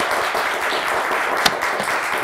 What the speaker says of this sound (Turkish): Hadi bize bir avuntu alkışı daha lütfen.